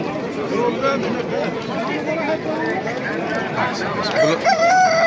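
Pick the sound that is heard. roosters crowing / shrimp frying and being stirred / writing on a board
roosters crowing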